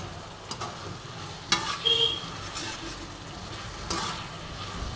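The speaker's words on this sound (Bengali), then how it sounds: "সুন্দর করে মশলাটা কষবো।" Thick spice paste being stir-fried in a pan for a pakasol fish dish, with a steady low sizzle, scraping stirring strokes and a few louder clanks of the spatula, close and continuous without speech.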